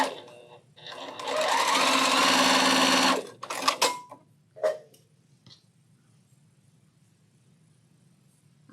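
A small sewing machine stitches a quilt block in a fast, steady whir lasting about two seconds, followed by a few short bursts and clicks, then quiet.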